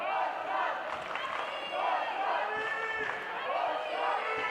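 Home crowd cheering at a women's lacrosse match between Germany and Czechia in Radotín, a steady broad roar of voices filling the space with no single voice standing out.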